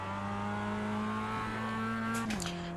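A Mazda MX5 in iRacing at Okayama accelerates out of a corner, its steady buzzing engine note climbing in pitch before a quick shift drops it near the end.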